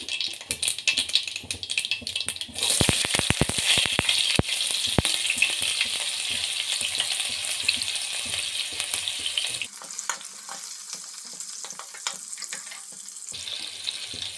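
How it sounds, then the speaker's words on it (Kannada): Onions and curry leaves frying in hot oil for a tempering after mustard seeds, a bright steady sizzle with a burst of sharp crackles and pops early on, close, easing slightly toward the end. "ಸಾಸಿವೆ ಸಿಡಿದಾದ್ಮೇಲೆ ಈರುಳ್ಳಿ ಮತ್ತು ಕರಿಬೇವು ಹಾಕ್ತೀನಿ ನೋಡಿ"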